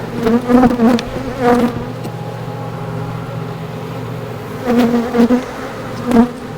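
Honeybees buzz around a beehive frame during a hive inspection, a close, steady drone with a few louder swells as individual bees pass near.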